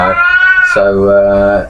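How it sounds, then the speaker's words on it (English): A pet cat meows in the background, a drawn-out harmonic cry rising and falling over about a second and a half, heard under a voice. "please excuse the cat that's meowing there in the background if you can hear him"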